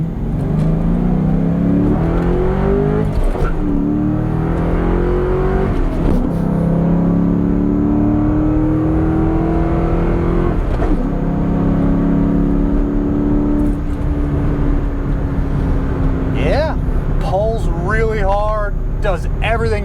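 A 2004 Ford Mustang Mach 1 engine with aftermarket exhaust and a 5-speed manual drones and revs under nearby talking, its throaty exhaust rising in pitch with each acceleration before a few higher whines near the end.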